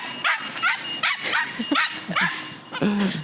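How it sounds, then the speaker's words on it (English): An excited dog barking repeatedly just before setting off on a run with its owner, a quick series of loud, close yapping barks with some whining between them. "Does anyone know how to calm their dog down on a run?"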